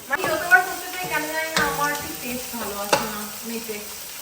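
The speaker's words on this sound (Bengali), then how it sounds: "একটু জল দিয়ে কষাচ্ছি" Ground spices hiss and sizzle in a hot pan with a splash of water while being stirred, with scraping strokes of a spoon and clinks against the metal. A voice can be heard talking over the cooking.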